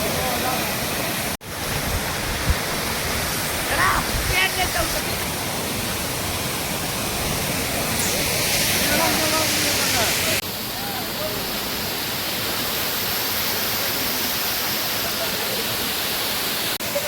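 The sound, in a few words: waterfall, private falls at Thekkady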